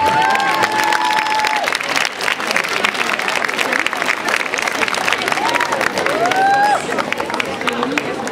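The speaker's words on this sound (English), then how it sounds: "Let's give her a big round of applause." An audience at a school award ceremony claps steadily and loudly, with scattered cheers and murmuring voices in the crowd.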